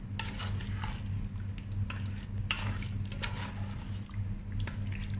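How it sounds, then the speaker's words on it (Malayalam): Yogurt being stirred into biryani masala in a pan for Malabar chicken biryani: a continuous wet sizzle with repeated scraping stir strokes and soft liquid squelches, close and fairly loud throughout. "നമുക്ക് ഈ തൈര് നന്നായിട്ടൊന്ന് മിക്സ് ചെയ്ത് കൊടുക്കാം നമ്മുടെ മസാലയ്ക്ക്."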